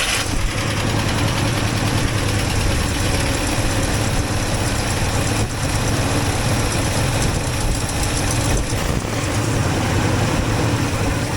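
A 1964 IH Travelall's engine idles steadily and close by, a continuous low rumble with an even, unbroken drone throughout and no voices.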